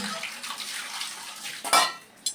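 Running tap water splashes steadily while dishes are washed in a home kitchen, with a brief louder clatter of utensils near the end.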